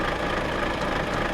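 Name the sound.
Volvo F Series truck engine idling, Euro Truck Simulator 2 video game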